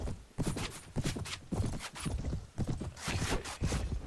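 Horse hoofbeats in the medieval battle game Mount & Blade, a rapid, uneven clip-clop of a galloping mount, fairly close, with a brief whinny mixed in.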